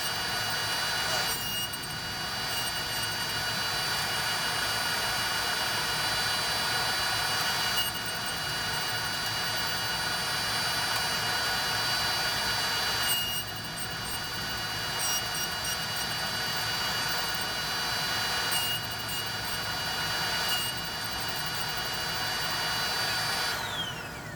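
A power saw cuts a tenon in a 1.5-inch-thick oak table board, its steady, loud whine running the whole time with brief surges as the blade bites in.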